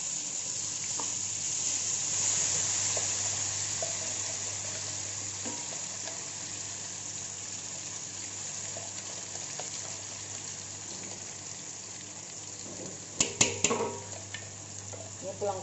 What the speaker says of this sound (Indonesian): Tumis bumbunya yang sudah dihaluskan tadi ya.